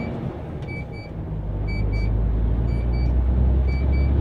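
A diesel truck drives on after refuelling, its low engine rumble steady and rising slightly in level, with faint intermittent beeps sounding over it.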